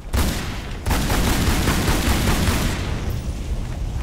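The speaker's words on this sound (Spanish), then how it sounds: "Le he pegado un escopetazo, no sé si le he dejado seco al cocodrilo." Shotgun blasts fired at a crocodile in the video game Tomb Raider Anniversary: two loud, booming shots close together, the second followed by a long, rolling roar that slowly fades.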